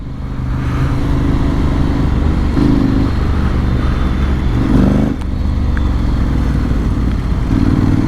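Honda X-ADV 750 scooter-style motorcycle pulling hard under acceleration, a loud steady engine drone with rising surges of revs heard from the rider's position, with wind buffeting.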